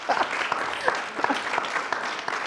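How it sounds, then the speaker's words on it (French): Audience applause at a French talk-show taping, a dense, steady patter of many hands clapping at moderate volume for a few seconds, with faint voices mixed in. "Faut applaudir"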